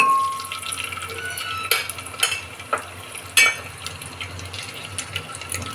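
Eggs fry in hot oil for an egg curry, a steady sizzle with a few sharp clinks and scrapes of a utensil against the pan, close and alone without talk.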